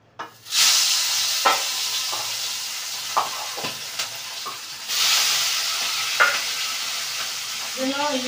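Hilsa fish frying in hot oil, a steady sizzling hiss broken by repeated short clinks and stirring noises, with a burst of spitting oil partway through.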